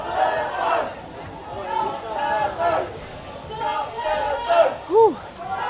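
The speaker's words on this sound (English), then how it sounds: "these are the crowds coming through" Protesters in a Braintree and Wethersfield march stream by as a crowd, overlapping shouts and chants swelling in bursts over steady chatter, fairly close, with one voice rising sharply near the end.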